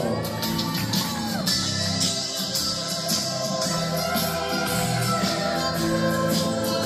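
Crowd at a quinceañera in an event center applauds and cheers for a dancing couple, with dense clapping, whoops and shouts sustained throughout over background music.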